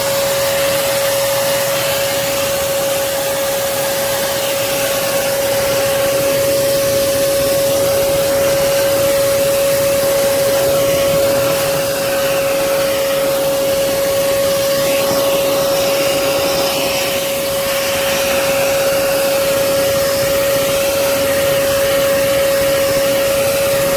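A Hoover Commercial PortaPower lightweight canister vacuum cleaner runs steadily and loudly for the whole stretch, a constant high whine with a broad airy rush as it picks up dust and spider webs.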